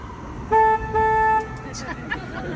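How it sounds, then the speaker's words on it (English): Two loud foghorn blasts from a river tour boat, a short one then a longer one, sound over a low engine rumble, with voices talking faintly afterward, on the San Antonio Riverwalk. "so we slow down, hit the foghorn"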